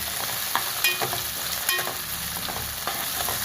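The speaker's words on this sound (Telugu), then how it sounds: "అల్లం వెల్లుల్లి పేస్ట్ వేస్తున్నాను. బాగా వేగాలి, పచ్చివాసన పోయేంత వరకు." Ginger garlic paste sizzles in a pan for a fish curry, a steady crackling fry punctuated by several sharp clinks and scrapes of a spoon stirring, close up and with no talking.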